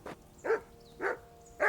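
Four loud, close barks from a dog in Kingdom Come Deliverance II, spaced roughly half a second apart, with quiet background ambience between them.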